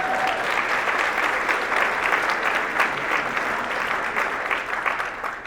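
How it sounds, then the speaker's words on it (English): A large audience at a hub convocation evening breaks into a sustained, dense round of applause, loud and steady throughout with a faint crowd murmur underneath. "Give yourself a round of applause."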